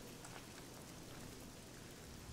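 Steady rain pours down in the fantasy game Oblivion at night, a continuous soft hiss with no gaps, heard alone at low level.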